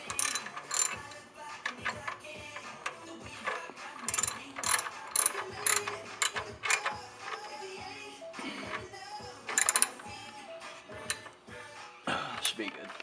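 A ratchet tightens a drain part on a car's oil pan during an oil change, giving rapid, close pawl clicks in bursts, with some metallic clinks between strokes.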